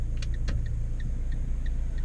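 A car passes nearby, a low continuous engine rumble with faint ticking sounds above it, heard from inside another car with a manual gearbox.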